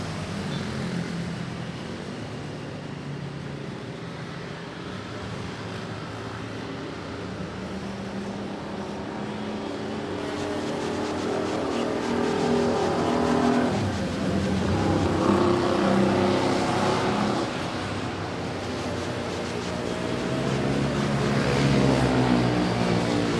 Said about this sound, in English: A330 butter machine. Arriving from Singapore.